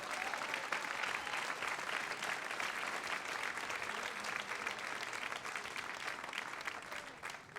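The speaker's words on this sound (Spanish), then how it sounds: "Dele un aplauso al Señor" A church congregation at a Spanish-language sermon claps for the Lord, a dense, sustained round of applause that fills the room evenly for several seconds and thins slightly toward the end.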